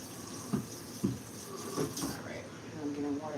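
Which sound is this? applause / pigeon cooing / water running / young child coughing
water running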